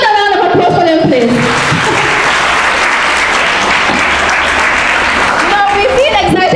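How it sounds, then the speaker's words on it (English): An audience at the African Nations Quiz at the Gambia College in Brikama claps for quiz participants. The loud, dense applause lasts several seconds, and voices can be heard at the start and end. "Can we have another round of applause for them, please?"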